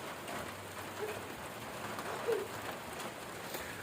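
Rain that has just begun falling outside a house gives a faint, steady hiss with scattered patters, heard alone and continuous throughout.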